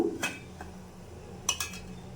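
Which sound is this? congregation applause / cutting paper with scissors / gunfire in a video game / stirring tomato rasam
stirring tomato rasam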